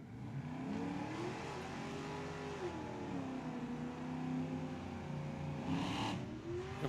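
Drag race cars, an Olds Omega and a little red Corvette, accelerating hard down the strip at Tucson Dragway, a steady engine roar with rising and falling revs, fairly distant and continuous throughout.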